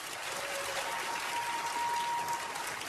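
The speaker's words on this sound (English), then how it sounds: "Give her a round of applause." An audience at a stand-up comedy show applauds steadily, a fairly quiet, even wash of clapping hands heard from a distance with no talking over it.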